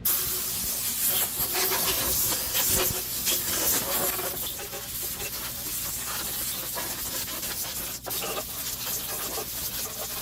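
Compressed gas blown over a freshly blasted exhaust system to clear moisture before Cerakote coating, a steady, loud broadband hiss that runs continuously for about ten seconds with slight surges and one brief dip.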